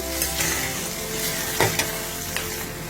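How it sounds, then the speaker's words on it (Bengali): Onion for shrimp bhuna fries in a pan with a loud, continuous, close-up hiss and crackle, plus a few sharper pops; no speech. "পেঁয়াজটাকে আমরা একটু ভেজে নিব একটু বাদামি কালার হইলে"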